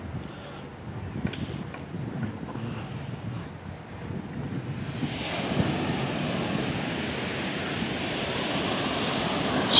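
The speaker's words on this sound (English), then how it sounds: "Check this out. The beach house. Nice private beach." Waves wash onto a private beach beside a beach house, a steady close roar of surf under heavy wind buffeting the microphone, growing louder halfway through.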